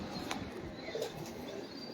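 Domestic pigeons cooing softly in a loft, low murmuring coos repeating through the clip with a few faint chirps, fairly close and steady, no talking.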